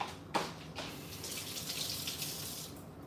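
A kitchen tap runs steadily while tomatillos are rinsed under it, a close, soft stream of water with a brief splash near the start.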